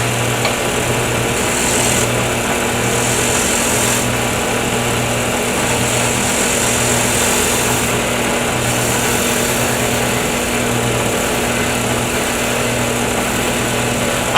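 A wood lathe spins a pen blank on a mandrel with metal bushings while a skew chisel works it, producing a loud, steady motor whine and hum that runs without a break.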